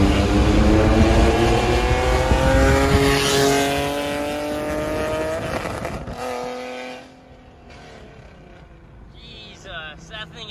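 A loud, throaty Nissan 370Z exhaust, freshly modified, roars and revs up, its pitch climbing, then fades as the car moves away, leaving quieter background noise.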